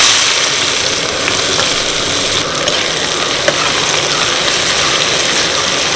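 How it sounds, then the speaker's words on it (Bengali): Onions frying in mustard oil in a wok give a steady, close crackling sizzle that runs the whole time, with a few faint clicks of stirring and no talking. "এবার দিয়ে দিচ্ছি বেশ অনেকটা পরিমাণে পেঁয়াজ।"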